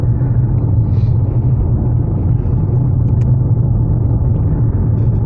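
A Mitsubishi Outlander PHEV rolls along a rural road, heard from inside as a steady low rumble of road and tyre noise with a faint whirring hum and no talk.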